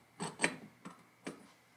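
Two burners are slid into a Vevor 12K melting furnace: four short scraping rubs of metal against the furnace body, close by and uneven, the first two bunched together.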